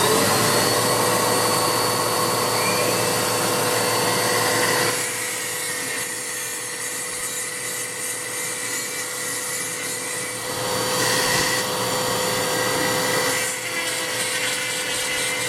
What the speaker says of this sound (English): Really all I do is put a vacuum cleaner hose on this side of the port to suck up all the grindings.